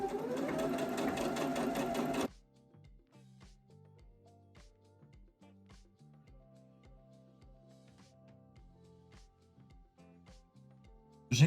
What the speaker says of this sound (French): on va venir coudre la bande sur le contour de l'assise à 1 cm